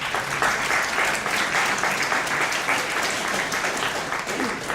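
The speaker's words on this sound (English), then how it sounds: "thanks for that nice round of applause" A round of applause fills an auditorium at a college event, steady and sustained clapping from many hands at moderate volume throughout.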